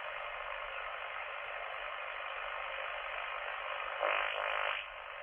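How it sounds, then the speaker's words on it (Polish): A Kenwood TS-820S shortwave receiver gives a steady hiss of band noise, and near the end a fainter radar signal sweeps through for about a second as a brief rising, wavering tone. "Tu jakiś radar."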